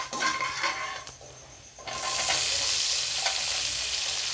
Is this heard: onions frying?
yes